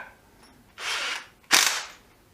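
DeWalt DCF801 12V brushless impact driver, run in two short bursts of rattling, hammering whir, the second louder and sharper, separated by a brief pause with no talking.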